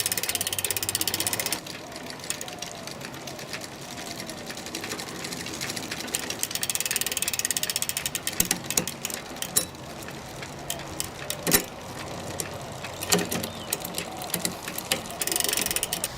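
Bicycle gear shifter clicking and ratcheting as gears change during a repair, with steady mechanical clicks and a few sharper snaps over a continuous background whir.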